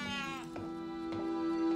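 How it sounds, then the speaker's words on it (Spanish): A frightened cat meows in a long, wavering, drawn-out cry that rises in intensity toward the end, close and alone in the film Child's Play. "el gato está aterrado"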